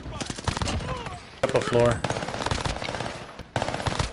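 Gunfire in Warzone: bursts of rapid shots crackle through the round, including a sustained automatic burst, while players talk over it.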